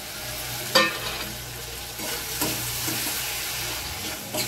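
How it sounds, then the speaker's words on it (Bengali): Cumin, coriander and turmeric powder with grated tomato frying in hot oil, a steady close sizzle broken by a few sharp stirring scrapes, with no voices. "জিরে গুঁড়ো, ধনে গুঁড়ো আর হলুদ গুঁড়ো দিয়ে দিলাম"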